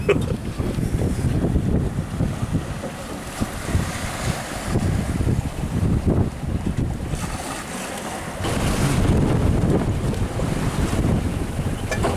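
Wind roars and waves splash around a small sailboat sailed solo along the Spanish coast, a constant loud rush of gusts and spray that surges near the end as water breaks close by.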